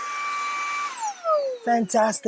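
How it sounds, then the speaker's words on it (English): A Fanttik Cruise V9 handheld car vacuum whirs with a high steady whine, then its pitch drops as it powers down, followed by a person talking. "little vacuum to keep in your trunk, in the back seat."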